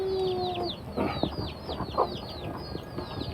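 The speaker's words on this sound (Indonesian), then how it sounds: "di samping rumahnya ini terdapat kandang ayam" Chickens cluck in a coop set beside a house, giving repeated short, quick calls over a constant bed of background noise, with a few brief knocks and other chicken noises mixed in.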